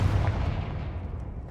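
A Confringo blasting spell in Hogwarts Legacy lands as a single heavy boom with a deep rumbling tail that fades over a second or so, loud and close, with no voices over it.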